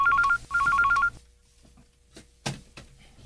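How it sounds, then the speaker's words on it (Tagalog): A telephone rings in a domestic drama scene: two bursts of a bright, rapidly trilling electronic ring, then quiet with a few soft clicks and handling noises. "Nagaring ang telepono."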